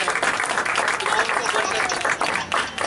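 An audience at a Bible school graduation ceremony applauds loudly and continuously, with a crowd murmur and some voices under the clapping.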